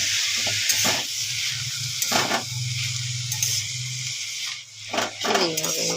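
Steamed banana flower is stirred with spices in a hot pan, giving a soft hiss and sizzle with occasional scraping strokes and brief pauses, and no talk.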